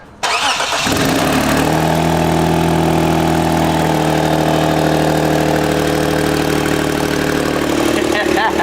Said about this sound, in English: what you're hearing is a massive exhaust leak on this engine